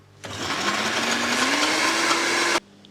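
An electric blender churns a thick protein meal, a loud whirring motor that starts abruptly, strains slightly rising in pitch, and cuts off sharply after about two seconds.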